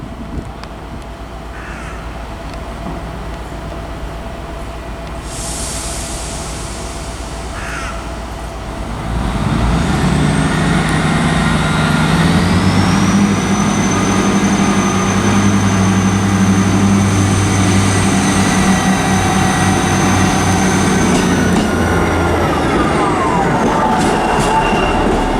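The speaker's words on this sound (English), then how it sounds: "next train to depart is the 1903 ScotRail service to Elgin" ScotRail class 158 diesel unit departing Inverness for Elgin: engine rumble builds and holds steady as the train pulls away, with crows cawing loudly nearby throughout and a rising whine over the drone.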